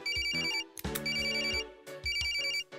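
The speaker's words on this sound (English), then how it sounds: "Oh? Phone call?" A ringtone chimes in a video game, a bright repeating electronic melody in three bursts with short gaps, clear and alone with no talking.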